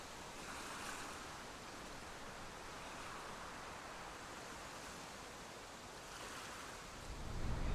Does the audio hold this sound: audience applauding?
no